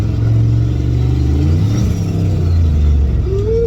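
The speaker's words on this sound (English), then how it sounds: "Let's see if we can get it to a spool up." A truck engine with a turbo builds revs under load, a loud, steady mid-range drone with a rising whistle-like tone near the end as the turbo spools up.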